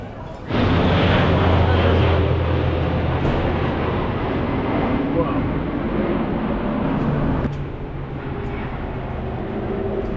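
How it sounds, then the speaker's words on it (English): A loud, steady roar of aircraft passing overhead in Madrid fills the scene, easing slightly after a few seconds while a voice speaks faintly underneath. "there are a heck of a lot of planes flying over"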